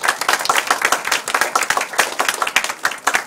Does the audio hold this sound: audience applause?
yes